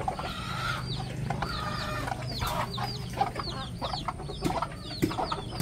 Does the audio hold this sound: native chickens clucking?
yes